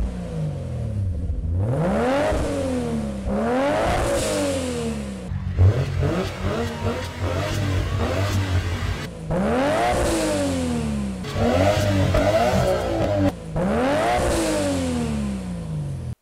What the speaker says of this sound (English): Listen to the top-speed Autosport R34 GTR, and you'll hear what I mean.